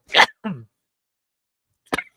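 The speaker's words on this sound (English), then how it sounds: "Excuse me for sneezing like that." A single short sneeze with a quick follow-up breath, then a brief burst of sound after a pause of silence.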